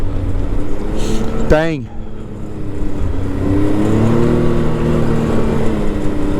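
A Can-Am Maverick X3 DS RR side-by-side engine accelerating at full throttle in winter, a loud steady drone with a sharp rising rev sweep partway through, then a sustained climbing roar; someone speaks briefly over it.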